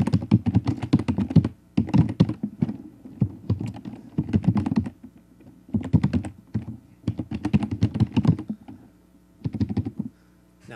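Password being typed on a computer keyboard during Google account setup, with steady bursts of close keystroke clicks separated by short pauses.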